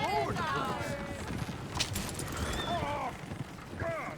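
Horses clip-clop and whinny beside a coach in Red Dead Redemption 2, hooves steady and close while a horse squeals, with voices talking over the commotion.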